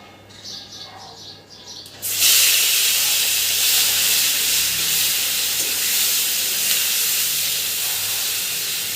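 Spices frying in hot oil before onion paste is added for hilsa fish curry with nigella seeds: a sudden loud, steady hissing sizzle bursts in after a couple of seconds and continues evenly, close by, with no talking.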